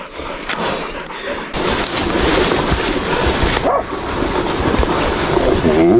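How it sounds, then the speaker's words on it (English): Several ranch dogs bark and yip around a cow being roped in thick brush, a loud continuous outdoor commotion with rustling and splashing throughout the clip. "Good dogs."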